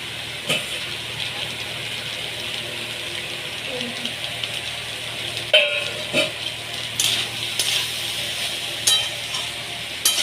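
Leftover rice with peanuts frying in a pan, a low steady sizzle with intermittent spatula scrapes and clinks throughout, close, with a faint hum in the background.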